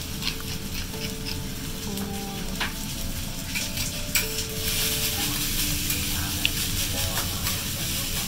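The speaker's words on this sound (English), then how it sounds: "we're doing fried rice now, teppan fried rice" Teppan fried rice sizzles steadily in Kobe beef fat on a hot griddle, a close, continuous hiss with faint scraping and stirring ticks throughout, no voices.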